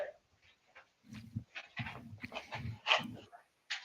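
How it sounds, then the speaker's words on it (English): Dogs indoors whimper and grunt close by in a few short bursts, with a person talking faintly in between. "Damn dogs."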